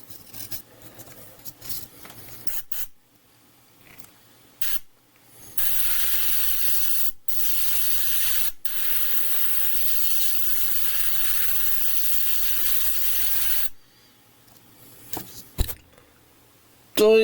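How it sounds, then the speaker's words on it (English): An airbrush compressor hums steadily for several seconds, with bright, airy hissing from spraying during model aircraft painting; brief cutoffs interrupt the hiss, with quieter handling noises before and after. "Just like clockwork, compressor kicks in."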